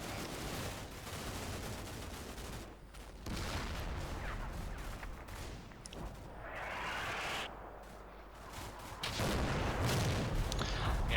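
Heavy 155mm artillery fire in the Combat Mission Shock Force 2 war game, a dense rumbling barrage of booms and blasts with whooshing shells, rolling continuously and swelling louder toward the end.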